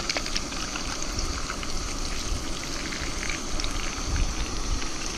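Eggs frying in a pan with a lot of hot oil outdoors, a dense, steady loud crackle and sizzle spattering continuously throughout, close up with no voices.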